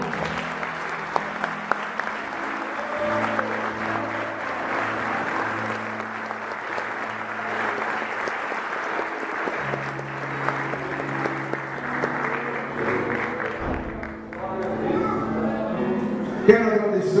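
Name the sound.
applause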